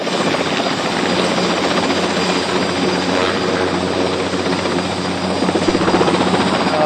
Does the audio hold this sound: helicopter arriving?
yes